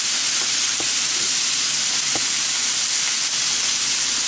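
Rib eye steak and pork loin searing in a cast iron pan, a loud continuous broadband sizzle with steady hiss and a few faint clicks, close up and alone.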